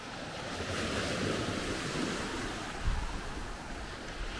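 Ocean waves wash onto Lamai Beach on Koh Samui, a continuous surf roar mixed with wind buffeting the microphone, a slightly stronger wave surge partway through, no voices.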